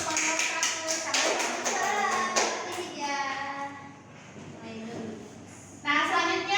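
Classroom applause for a student group, a brief patter of clapping hands mixed with children's chatter and voices, moderately loud and close.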